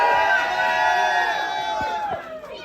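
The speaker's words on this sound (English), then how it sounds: "Everybody give a round of applause for Ashley" An audience at a community talk show cheers and whoops in a loud, close burst of voices that stays strong for nearly three seconds before tapering slightly.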